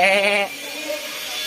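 A human voice imitates a goat's bleat, a short wavering nasal 'baa' held for about half a second and then trailing off into quiet room tone.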